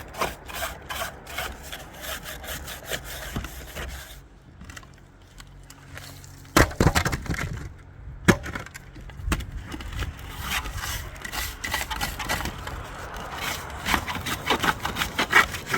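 A plastic brush scrapes soot off a wood stove chimney cap in repeated rough strokes, close and fairly loud, with a short quieter pause partway through before the scraping resumes.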